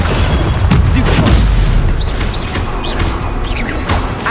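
Stunning spell cast in the Hogwarts Legacy video game, a dense burst of booming magical impacts and crashing effects with whooshing sparkle layers, loud and continuous over rumbling combat noise.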